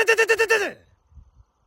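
A voice imitates a motorcycle engine bouncing off the rev limiter, a quick burst of about six sharp pulsing stutters before dropping off into silence.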